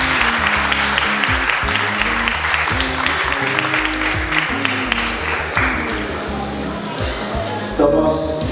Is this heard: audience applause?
yes